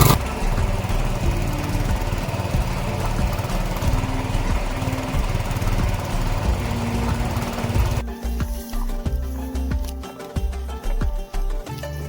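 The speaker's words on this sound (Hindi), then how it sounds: "तो ये है हमारा ट्रैक्टर" A tractor engine runs loud and close in a hillside farm field during ploughing, a continuous rough mechanical drone with a slight change in tone partway through and no talking.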